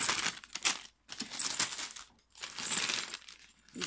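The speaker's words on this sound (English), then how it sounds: "So this sounds like charms." Small metal craft charms rattle and jingle inside a paper bag in several short bursts of bright clinking and crinkling, close up with brief pauses between shakes and no talking.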